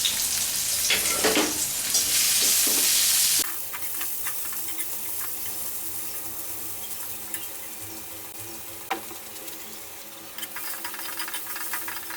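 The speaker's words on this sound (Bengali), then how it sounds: "একটু তেল গরম দিব কড়াইয়ে তার মধ্যে পেঁয়াজ রসুন ফালি ফালি করে কাটা একটু ভাজবো" Sliced onion and garlic fry in hot oil in a wok. A loud, bright sizzle burst in the first few seconds settles into a quieter, steady frying hiss with an occasional clink of a utensil.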